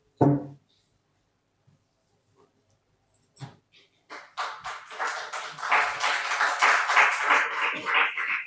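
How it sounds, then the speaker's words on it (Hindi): An audience at a press conference bursts into applause to welcome a guest: a few isolated taps, then a swelling, sustained clatter of many hands that grows louder and stays dense. "तो ऐसे महान व्यक्ति का जोरदार तालियों से स्वागत होना चाहिए"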